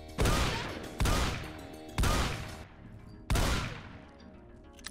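Rifle fire in a modded shooter video game, four heavy, booming shots spaced about a second apart, each with a long ringing decay, loud and close with no talk.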